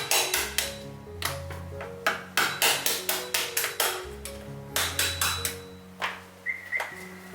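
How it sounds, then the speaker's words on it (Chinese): Sharp tapping blows crack crab claws for a Cantonese clay-pot baked crab, about twenty close, loud knocks in an uneven rhythm with brief pauses, alone over faint background music. "钳子敲一下"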